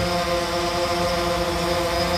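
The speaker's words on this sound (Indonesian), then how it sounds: "Kita pundurin dulu si drone-nya berapa jauh dia ke sana" A DJI Phantom 3 Standard drone hovers and flies, giving a steady high-pitched propeller whine with a constant buzzing hum. The sound is close, loud and unbroken, with no talking.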